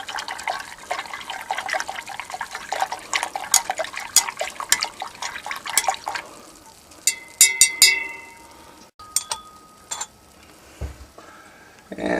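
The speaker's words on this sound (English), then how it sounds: "Let's stir it a little bit to get the solution mixed up good." Stirring a sodium formate solution while refining sterling silver gives a run of rapid clinks, scrapes and liquid sloshing, then thins into scattered taps and splashes near the end.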